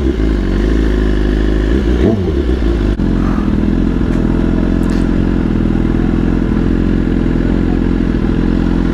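A BMW S1000RR motorcycle cruises through Manhattan streets, its engine a loud, steady close drone with slight rises in revs and faint city clatter around it, no voices.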